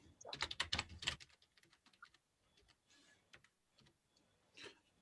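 Quick clattering keystrokes on a computer keyboard, a dense burst at first that thins into scattered, softer taps, fairly close with no talking.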